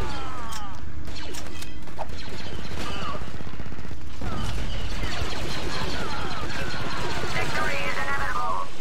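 Gunfire in an Arma 3 Star Wars Battlefront 2 mod battle, with scattered blaster or rifle shots and crashing impacts over a busy mix of game effects, plus a sharp burst near the middle.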